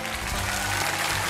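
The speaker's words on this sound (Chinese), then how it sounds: "来，掌声送给他" Studio audience applauding after a close-up card magic trick on a Chinese variety show stage, a dense steady clapping that fills the whole moment.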